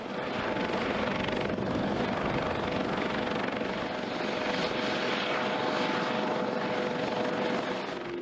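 A U.S. Coast Guard helicopter drones steadily with a dense, constant rotor and engine roar, loud and unbroken throughout.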